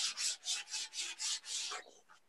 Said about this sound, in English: And sand that back down.